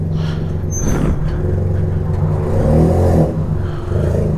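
A loud, close Yamaha XJ6 motorcycle engine with a turbo revs with a deep throaty roar, holding high and surging again in a continuous run.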